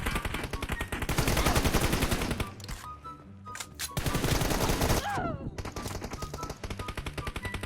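Rapid bursts of automatic gunfire in PUBG Mobile, loud and repeated in dense volleys with brief pauses, over game background sound and faint voices.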